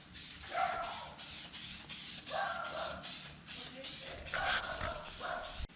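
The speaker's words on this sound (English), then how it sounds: "So we'll get this guy all sprayed up, wait for it to tack a little, and then we roll it on" Spray adhesive hisses from a can onto a car's rear suspension section in a garage, coming in several sustained bursts with short pauses between them, close and fairly loud.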